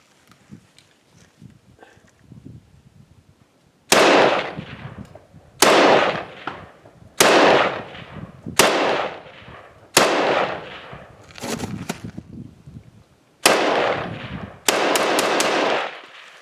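A Norinco T97 Gen III rifle firing ten rounds outdoors: loud, sharp cracks with ringing tails, coming singly and in quick pairs at uneven intervals after a quiet start.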